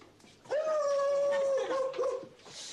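A dog whimpers and whines in a long, high, drawn-out tone that wavers and breaks near the end, close and fairly loud, with a faint voice in the background.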